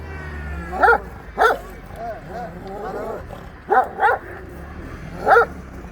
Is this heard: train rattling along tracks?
no